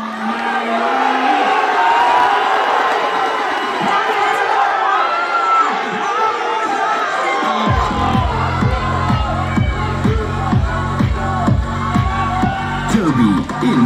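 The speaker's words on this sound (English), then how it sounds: "What a crowd." Crowd at a men's physique first-timer bodybuilding state championship cheering, whooping and shouting loudly, then rhythmic pounding music kicks in beneath the continuing noise.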